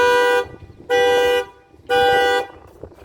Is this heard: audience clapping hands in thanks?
no